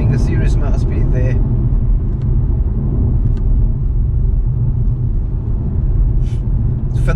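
A BMW G20 3 Series driven hard at speed fills the cabin with a loud, steady low rumble of engine and road noise, while a voice is heard briefly over it near the start.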